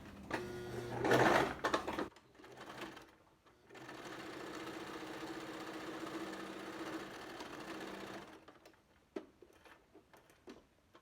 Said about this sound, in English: You're going to sew along the nose seam first.